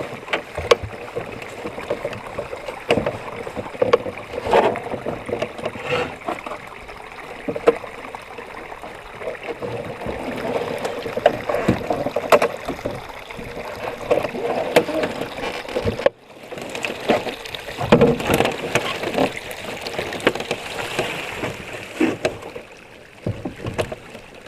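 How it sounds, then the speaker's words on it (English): Solo canoe being lifted over a beaver dam on a creek in Algonquin Provincial Park: close scraping, knocking and splashing of hull and water, irregular bumps with a brief pause midway, then more handling noise. "Just do a quick lift over here and keep the momentum going."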